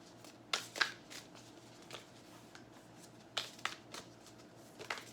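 Tarot cards shuffled by hand in a deck, giving several quiet, crisp riffling bursts spaced irregularly over a faint background, with no talking.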